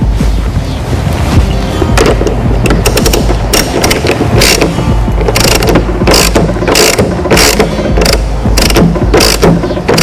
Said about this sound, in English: When tightening the front wheel